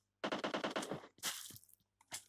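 In PUBG Mobile zombie mode, a rapid burst of about eight automatic gunshots rings out close and loud, followed by a few scattered single shots and short gaps of silence.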